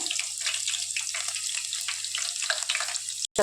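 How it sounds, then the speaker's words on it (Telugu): Onions and curry leaves fry in hot oil, giving a dense, bright hiss that runs without a break and stops abruptly near the end. "ఆయిల్ వేస్తేనే ఆనియన్స్ కరివేపాకు ఇట్లా వేసుకొని దూరంగా వేయించుకోవాలండి"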